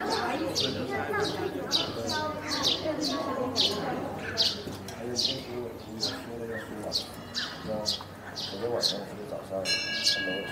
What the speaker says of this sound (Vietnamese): Mọi người hãy lặng nghe tiếng chim nè.